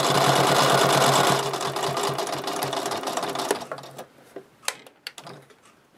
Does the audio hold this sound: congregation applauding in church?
no